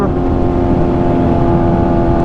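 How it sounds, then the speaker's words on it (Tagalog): A motorcycle engine, a Kawasaki Z1000R or Honda CBR600RR, drones steadily up close, with constant rattling and jostling noise as it rides over an uneven, bumpy road. "Talbog ang ating motor."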